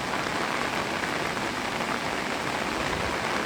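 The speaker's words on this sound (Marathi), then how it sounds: "रात्रीपासून पावसाचा जोर आहे तो वाढलाय" Heavy monsoon rain in Karjat, Raigad, pours down in a dense, continuous hiss, loud and close, with no voices.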